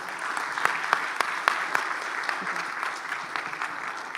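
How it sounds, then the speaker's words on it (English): Conference audience at ZK Summit 12 clapping after a talk, a moderate round of applause with distinct individual claps standing out early, then thinning gradually, with some speech underneath. "Round of applause."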